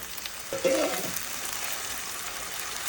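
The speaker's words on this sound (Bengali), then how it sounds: "পেঁয়াজ রসুন একটু নরম হওয়া পর্যন্ত ভালো করে ভুনে নিতে হবে" Onion and garlic fry in a pan for a Chittagong-style dried fish curry, a steady broadband sizzle with a brief louder crackle and stir near the start, no talk.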